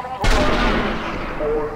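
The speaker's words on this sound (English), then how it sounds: "let's try and snipe this dude here" A sniper rifle shot fires in the video game Sniper Elite Nazi Zombie Army, one sharp loud crack followed by a long rumbling echo that slowly fades.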